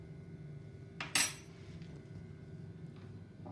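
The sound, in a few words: scraping tomato seed pulp into a sieve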